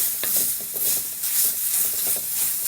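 Grated carrot sautéing in a pan for carrot halwa gives a steady soft sizzle and hiss, with faint intermittent stirring scrapes close by and no talking.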